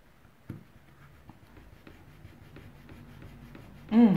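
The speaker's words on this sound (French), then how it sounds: "Je vais essayer de gommer maintenant." An eraser rubs out pencil marks, with faint, close scratchy strokes repeating over a few seconds before a sudden louder burst of noise at the end.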